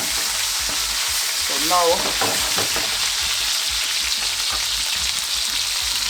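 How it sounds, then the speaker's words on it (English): Pot roast meat searing in a pot, a steady loud sizzle of frying throughout, with a brief spoken phrase midway. "as you can see, I have a nice sear on both sides"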